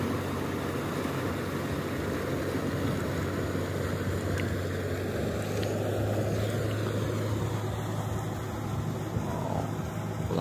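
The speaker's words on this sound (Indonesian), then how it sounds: "Halus sekali suara mesinnya. Nyaris tak terdengar." A boat engine runs on the Musi river, a steady low hum with broadband water and wind wash, continuous and moderately distant throughout.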